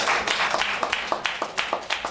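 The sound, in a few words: audience applause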